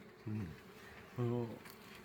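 Honeybees at their hives while being fed sugar syrup, with two short, close buzzing bursts over a quiet background.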